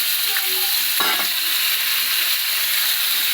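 Diced potatoes for jeera aloo dropped into a hot pan, a steady bright sizzle of frying with a brief clatter as they go in, close and continuous.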